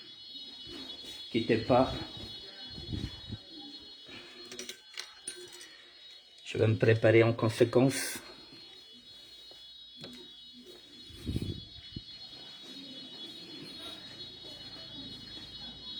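A fire alarm rings inside a building with a steady, piercing high tone that persists throughout, while French speech and footsteps come and go over it, loudest in two bursts.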